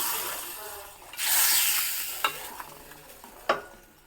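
A sharp burst of sizzling erupts as mustard seeds, asafoetida and curry leaves hit hot oil, then fades to a gentle crackle with a few clinks of a spoon.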